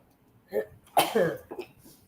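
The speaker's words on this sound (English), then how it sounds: "And I apologize for the cough." A couple of short, throaty coughs close by, quiet overall, with a small breathy sound before them.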